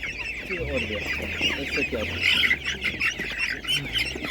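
Several chickens of a laying breed, sold at a market, cluck and murmur close by in a steady, busy chatter, with some faint background noise.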